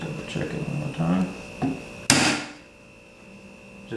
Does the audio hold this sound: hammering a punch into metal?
yes